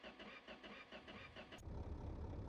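A car engine in the My Garage driving game cranks with a rhythmic starter whirr, then catches and settles into a low, steady idle rumble; a short, quiet sound.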